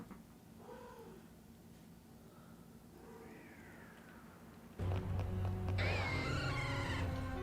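A female cat in heat yowls and caterwauls close by, starting with drawn-out, wavering meows and building to a louder, harsher wailing cry over a steady low hum.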